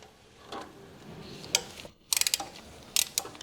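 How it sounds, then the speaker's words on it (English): Quick-release flex-head long-handle ratchet wrench loosening a bolt, with quiet handling at first, then crisp clusters of rapid ratcheting clicks close up, alone. "Rotate the wrench to loosen the fastener."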